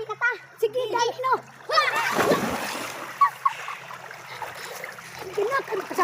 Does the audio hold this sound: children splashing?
yes